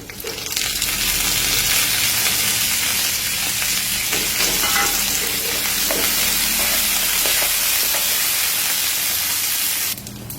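Onions sizzle loudly in hot oil with curry leaves, frying golden, a continuous, crackling hiss that carries on without pause until it suddenly drops off near the end.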